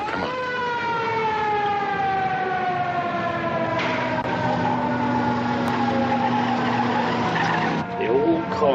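Late-1950s cars on a film soundtrack: a loud, sustained rising-and-falling wail like squealing tires or a siren runs the whole stretch, with engine noise underneath and no voices.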